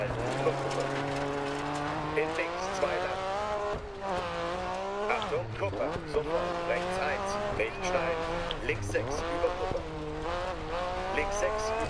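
Rally car engine in DiRT 4 on a Welsh stage, revving up and down through gear changes with rising and falling whine, steady and close, while someone talks over it.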